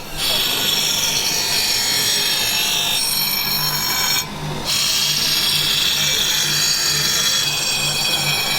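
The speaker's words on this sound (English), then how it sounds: "So they bring their knives here, and this gentleman just sharpens them." Street knife sharpener grinding knives at a roadside stall, a loud close rasping, scraping grind that runs almost continuously with a brief break in the middle.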